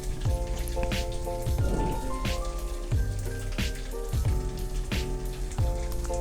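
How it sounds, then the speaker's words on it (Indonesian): Anchovies sizzle steadily in a pan as they are stir-fried until browned and crispy, a continuous crackling hiss with rhythmic scrapes and knocks of the spatula, and no voices. "Ini diaduk-aduk sampai terinya mateng dan kecoklatan dan garing pastinya."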